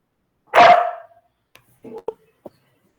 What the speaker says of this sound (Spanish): Lo voy a callar al perro, espérenme un segundo.